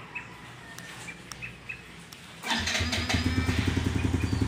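A Yamaha Sight motorcycle engine with keyless start cranks and starts up close by, settling into a throbbing idle, while birds chirp faintly in the background.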